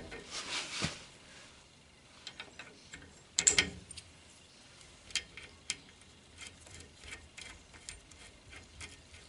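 Small clicks and ratcheting ticks come from a 14 mm wrench tightening parts on a car's rear axle assembly, with an irregular string of light metallic taps and one louder clatter, close and quiet.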